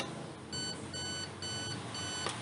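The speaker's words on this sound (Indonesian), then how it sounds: "Nah, udah ada bunyi tit tit tit tit, berarti itu udah nyimpen" Four short electronic beeps in a steady series from a JDI 3006 30-volt 6-amp power supply saving a setting, faint against a background hiss, with a soft click at the end.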